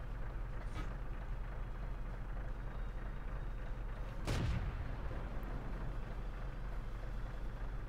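A single tank cannon shot fires in World of Tanks, a sharp loud boom cutting through a steady engine rumble and then decaying quickly, with no speech.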